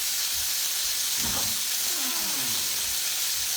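Chicken pieces sizzling on their second side in a hot pan, a steady hiss of frying steam with a brief surge of spattering partway through, fairly close and without talk.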